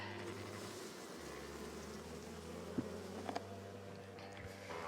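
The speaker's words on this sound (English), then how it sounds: "Full of bees also." Dense, low buzzing of many honey bees in a hive close by, a continuous hum with a few faint clicks and taps.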